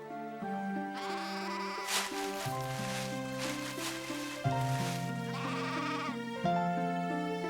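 Lambs bleating in a run of several wavering calls, near and clear, one after another with short gaps and no talk.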